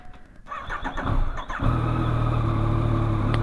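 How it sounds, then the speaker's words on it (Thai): A Yamaha MT-09 motorcycle starts up after a few clicks and rattles, then its engine settles into a loud, steady, throbbing idle as it warms up, close by and with no talking. "วอร์มเครื่องก่อนนะครับผม"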